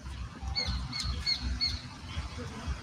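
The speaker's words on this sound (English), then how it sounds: "The duck is eating more than my pigeons, and more ducks are swimming towards my zone." Ducks and pigeons being fed, a short run of repeated squawks and calls close by, with soft rustling and bumps underneath and no one speaking.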